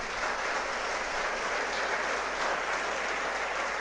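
Steady, dense applause from a seminar audience clapping for a guest in a rural-student motivation session, continuous and even throughout with no break.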